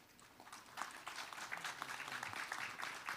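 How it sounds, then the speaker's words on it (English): An audience at a 2022 bio summit applauds after a presentation: soft, scattered clapping rises and holds steady, heard faintly and from a distance. "And I hope you could hear the applause"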